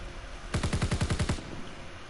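A PPSh submachine gun in a World War II shooter fires one rapid burst of about eight close, punchy shots, then stops.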